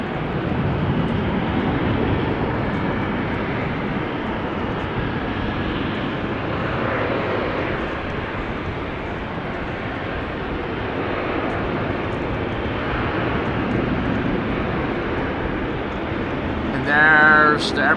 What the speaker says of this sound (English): And there's the airplane that we saw or heard take off.